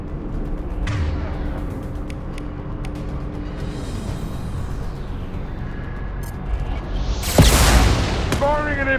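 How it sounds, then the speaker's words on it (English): A weapon fires an impact shot in Mass Effect, a heavy boom that breaks out late amid mechanical creaks, rumbling and game effects, with a sudden loud bright burst near the end. "Firing an impact shot."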